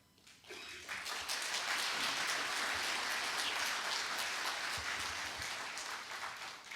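Sustained applause from a large audience at a university president's farewell ceremony in Busan, many hands clapping steadily and loudly after a brief quiet start, fading slightly toward the end.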